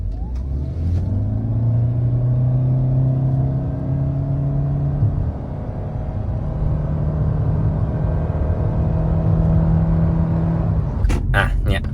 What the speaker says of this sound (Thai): สูตรถึงร้อยใน Yaris Cross ครับ